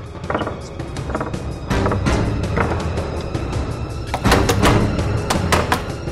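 Someone pounds on a locked door with repeated heavy, irregular bangs and thuds, some blows landing in quick clusters, loud and close.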